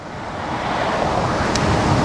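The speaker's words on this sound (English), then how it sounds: "Oh man, it's windy. Holy crap. Super windy." Steady roaring gusts of strong wind buffet the microphone, a broad constant rush with a faint surf-like quality throughout.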